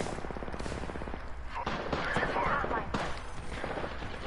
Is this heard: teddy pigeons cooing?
no